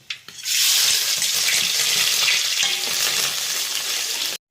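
Chopped shallots hit hot oil with popping mustard seeds, setting off a sudden loud, steady sizzle right after a few faint clinks and continuing evenly until it cuts off.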